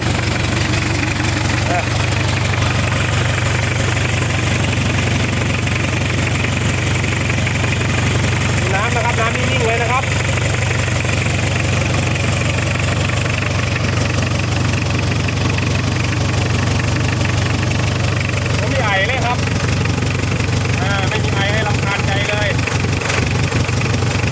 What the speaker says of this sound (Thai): เดี๋ยวจะสตาร์ทให้ดูครับ อ่าสตาร์ทง่ายเลยครับติดตึมเลยครับ